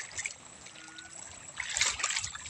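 River water in Santa Rosa, running deep after rising, trickles and gurgles faintly nearby, with a soft splashing burst toward the end.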